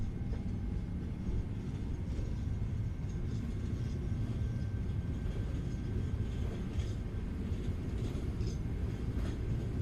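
Airliner on its takeoff roll out of Baltimore with thrust set, a broad, dense rumble of engines and runway noise that holds steady and loud throughout, heard from within the aircraft.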